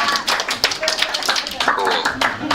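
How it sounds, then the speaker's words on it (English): Scattered hand clapping from a small conference audience after a talk on blockchain for extreme poverty and refugees, sharp close claps mixed with voices speaking over them. "Silent clap."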